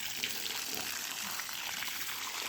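Water pouring onto a wilting cucumber plant in a garden in Piera, Spain: a faint, steady hiss of splashing water, continuous and soft.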